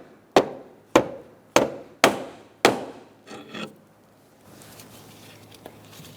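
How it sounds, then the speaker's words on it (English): Pry bar tapping down on a bolt while loosening a serpentine belt idler pulley on a 2014-2019 Kia Soul 1.6L, five sharp, evenly spaced metallic knocks followed by softer scraping. "You can use a pry bar underneath this bolt."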